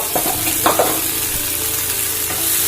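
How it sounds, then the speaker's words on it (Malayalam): Dried prawns fry in hot coconut oil in a pan over high flame, making a loud, steady sizzle with a few stirring knocks and scrapes near the start, and no talking. "ചട്ടി ചൂടായിട്ടുണ്ട്. ഇതിലേക്ക് ചെമ്മീൻ ഇട്ട് കൊടുക്കാം."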